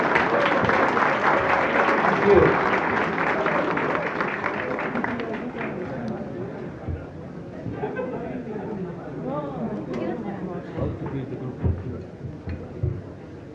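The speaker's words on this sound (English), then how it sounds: "Please give a big round of applause." Audience applause at a group session, loud and sustained at first, then thinning into scattered claps under crowd chatter and talking.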